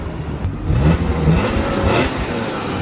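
A 3.7 V6 Mustang fitted with a GT500 M122 supercharger accelerates on a canyon road, a medium engine roar swelling and holding at moderate distance with faint whine, no voices.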